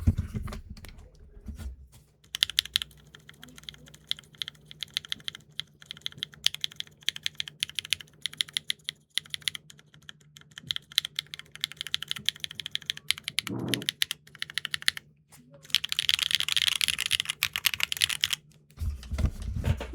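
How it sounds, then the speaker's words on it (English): Typing on HMX Cola linear switches in a Neo65 keyboard: close, rapid irregular clacks and taps in quick bursts with brief pauses, ending in a denser flurry of keystrokes. "This switch is extremely noisy despite the full travel."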